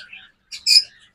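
Lutino red-eyed lovebirds give a few short, bright chirps close by, a quick pair of high bursts after a faint opening twitter.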